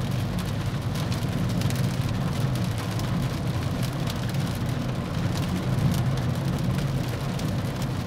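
Moderately heavy rain drums steadily on a Proton S70 car, a dense continuous patter over a low road and cabin rumble, unbroken and fairly loud throughout.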